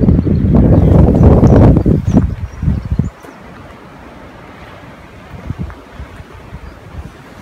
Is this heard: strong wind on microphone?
yes